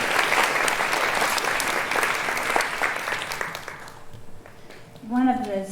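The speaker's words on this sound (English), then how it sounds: "we'll give her a round of applause." Audience applause at a Christian academy graduation ceremony, steady broadband clapping from a large crowd for about four seconds before fading, then a voice begins speaking near the end.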